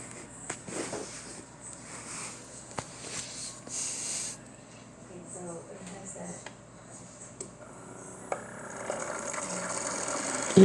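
A brand-new Ninja coffee maker heats and pumps water, giving a soft low hum with gurgling, trickling bursts that swell toward the end, heard under a person's talking.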